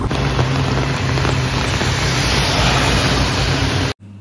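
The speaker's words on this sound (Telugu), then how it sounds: "ఇప్పుడు మాత్రం ఇక వర్షం మొదలయ్యింది" Steady, heavy rain pours in Shillong, Meghalaya, as a dense, even hiss that fills the whole scene without letup, then cuts off abruptly just before the end.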